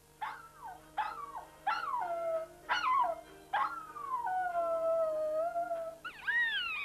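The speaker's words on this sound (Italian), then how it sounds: "È invece la particolare tonalità del suono di questo televisore che fa ululare questo cane." Dog howling in response to the particular tone of a television's sound, a series of rising and falling wails broken into short bursts, then one long drawn-out howl, fairly close and alone.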